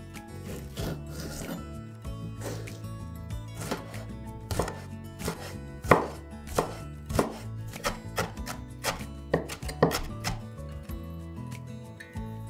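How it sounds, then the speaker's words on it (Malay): Red chillies, seeds removed, finely chopped with a knife on a board, a fast run of sharp close chops that grows louder and more clipped toward the end, with no talk. "Buang biji dan cincang halus."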